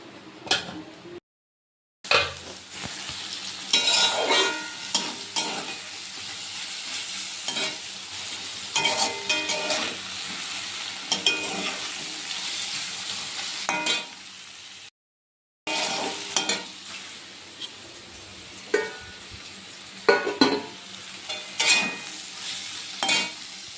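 Steady sizzling of soybean chunks cooking in a pan with intermittent stirring and spatula scrapes, close by, with two brief silent gaps.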